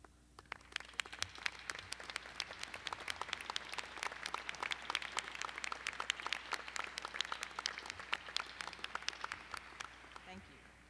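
A commencement audience at a master's and doctoral ceremony applauds the faculty with dense, steady clapping that stays even for about eleven seconds, heard from some distance and fairly soft overall.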